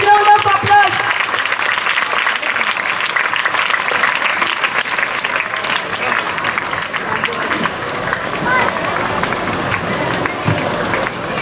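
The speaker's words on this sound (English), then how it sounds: "Please give them a big round of applause." A school crowd at an Independence Day celebration gives loud, sustained applause for a girl who won a karate kumite medal, steady clapping mixed with crowd babble throughout.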